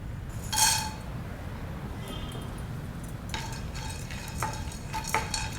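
Asafoetida roasts dry in a pan, with a scatter of scraping stirs and light metallic clinks over a faint, quiet sizzle.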